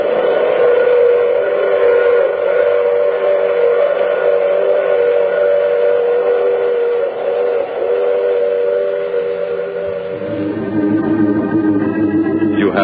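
Old-time radio drama train effect: a loud, continuous rumble of a moving train with a sustained steam whistle tone held over it, shifting near the end as the sound changes.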